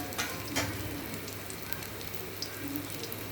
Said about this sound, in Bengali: কাঁকরোল ভাজা হচ্ছে